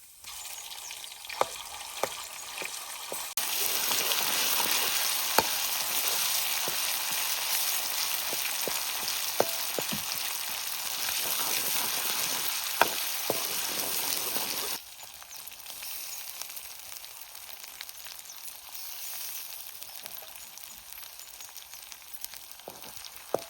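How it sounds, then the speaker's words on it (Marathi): Onion and masala sizzle and fry in a hot kadai over a wood-fired chulha for drumstick (shevga) bhaji, a steady close crackle with scattered pops and stirring scrapes, louder early on and then settling into a softer sizzle. "कढई गरम झाली आता कांदा टाकतो कांदा लाल झाला मसाला टाकतो"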